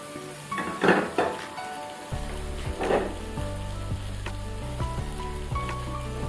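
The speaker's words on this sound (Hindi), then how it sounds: "और अब साथ ही हम इसमें ये मैदा ऐड कर देंगे। इसको हल्का सा हम भून लेंगे" Flour (maida) frying lightly in a pan over low flame for a white sauce, a steady close sizzle with a few stirring scrapes and a low background hum, no talking.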